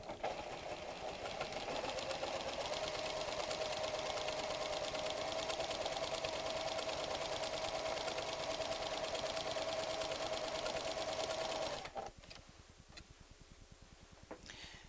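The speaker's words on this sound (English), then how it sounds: "You will be sewing on air, but don't worry, your creative can do this." A PFAFF creative 7550 sewing machine stitches a blind hem in a steady, close, humming whir with a fine rapid tick for about twelve seconds, then stops, leaving only quiet background.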